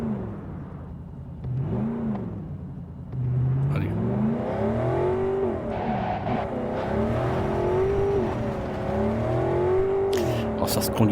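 Virtual car engine in Cyberpunk 2077 VR revving hard while driving, its pitch climbing and falling in repeated swoops, loud and continuous, with brief clicks and bursts near the end.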